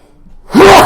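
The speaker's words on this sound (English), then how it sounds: "Apologize for the incoming sneeze." A single loud, sudden human sneeze bursts out after a brief quiet moment, close and forceful.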